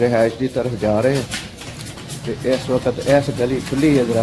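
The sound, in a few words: birds chirping in a street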